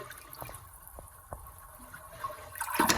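A toilet in an expandable homestead house flushes with modest power, opening with a few drips and quiet water movement before a swelling, gurgling rush of water near the end.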